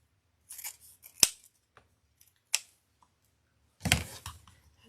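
Scissors snipping ribbon for a candy cane wreath, a few separate sharp cuts spaced across a quiet moment, one crisp snip followed later by a louder, longer rustling cut.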